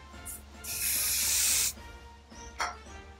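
A short burst of hairspray hisses for about a second, followed by a couple of faint clicks and rustles nearby.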